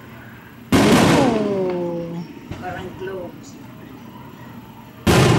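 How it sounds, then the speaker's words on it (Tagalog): Fireworks explode outside a window on New Year's, two sharp loud booms several seconds apart with crackling and rumbling in between, while people exclaim nearby. "Fireworks by the window."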